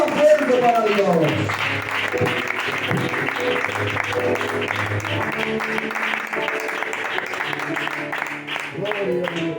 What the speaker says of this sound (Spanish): Aplauso fuerte para Dios.